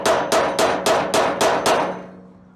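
Seven sharp metallic hammer blows struck at a steady rhythm on a trailer suspension nut and bolt thread, punching them to deform the threads, each hit ringing briefly, close and loud, with no talk.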